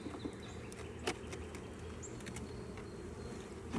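Bees hum thickly around a large beehive, a dense, steady buzzing swarm close by with individual insects droning past, no voices.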